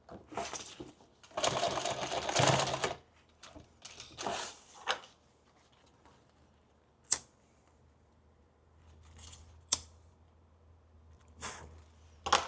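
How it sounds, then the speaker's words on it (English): A sewing machine stitches through layers of Cordura fabric on a ballistic duffle bag, with a couple of short whirring runs up close, followed by sparse sharp clicks and quiet handling sounds. "Let's back stitch that."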